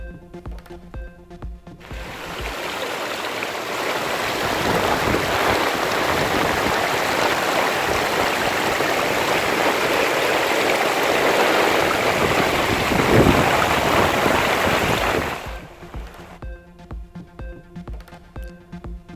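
Rain floodwater surrounds a temple in Sankarankovil, Tenkasi district, heard as a loud, continuous rushing wash that runs for about thirteen seconds, with music before and after it.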